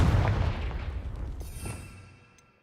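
Confringo fire-spell blast in the video game Hogwarts Legacy: one heavy, booming burst that trails off in a long fading rumble with a faint high shimmer, heard alone.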